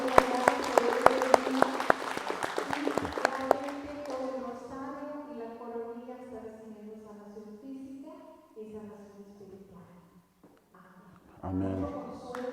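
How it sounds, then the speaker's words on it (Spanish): Church congregation applauding after a prayer gathering, a dense burst of clapping in the opening seconds that thins out as a tonal, music-like sound takes over, with a brief loud rise near the end. "Les damos un aplauso"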